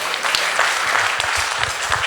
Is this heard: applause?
yes